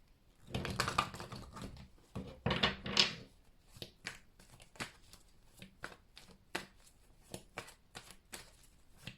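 Tarot cards being shuffled and handled by hand, a flurry of riffling in the first few seconds followed by a series of crisp, separate card taps and flicks, close and quiet.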